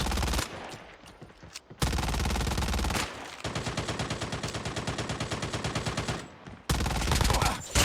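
Rapid automatic gunfire from the mobile shooter game Call of Duty: Mobile, loud and close, with dense bursts and a sustained rattling stream of shots, no talking.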